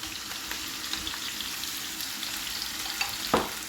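Tomatoes hiss and sizzle steadily in a hot pan, a soft continuous frying crackle with a faint clink near the end.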